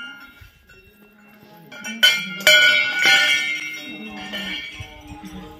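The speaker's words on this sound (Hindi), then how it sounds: "मतलब इस मंदिर में बहुत ज़्यादा घंटियाँ हैं" Bells at Sem Mukhem Nagraja temple in Tehri Garhwal ring several times close by, with metallic strikes clustered in the middle that leave overlapping, shimmering tones fading out.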